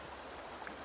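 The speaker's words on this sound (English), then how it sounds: "So there's the river running through it." A snowmelt-swollen mountain river flows past a campground, a steady broadband rush of water that fills the short stretch evenly without pauses or voices.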